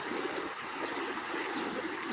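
A village stream swollen by flood rushes in a steady, dense roar of water, continuous and close, with no voices.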